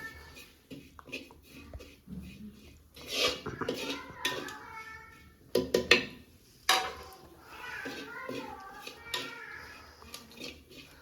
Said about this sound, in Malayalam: ഒന്ന് വറുത്ത് പച്ചമണം പോകുന്നതിനും വരെ നമ്മൾ വഴറ്റിയെടുക്കണം